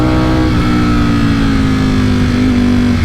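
A Ducati Streetfighter V4S motorcycle revs hard up through its gears on twisty mountain roads. The engine is loud, close and continuous, with a strong, rising mechanical howl and no voices.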